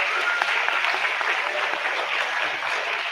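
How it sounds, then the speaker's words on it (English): Steady, dense applause from an audience at the 2024 SaskEnergy Willow Awards gala, a continuous wash of clapping that stays loud and even throughout without talk over it. "Can we give everyone who helped out a round of applause?"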